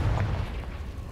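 A Confringo spell going off in Hogwarts Legacy makes a short, heavy, low boom that fades quickly, with no talking over it.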